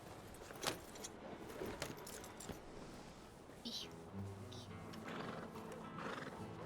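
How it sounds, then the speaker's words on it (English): A horse in Red Dead Redemption 2 roleplay: hooves clip-clop over ground, tack jangles and the horse neighs, all fairly faint under scattered voices and a light engine-like hum. "I'm gonna be riding on my horse."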